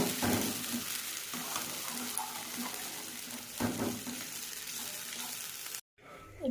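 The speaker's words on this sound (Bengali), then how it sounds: "গ্যাসের তেলটা একটু লো করে দিয়ে আমি এটাকে ভালো করে নাড়াচাড়া করে নেব।" Food with a paste stirred in a pan over low gas, making a fairly loud, close sizzle with recurring scraping strokes that cut off abruptly near the end.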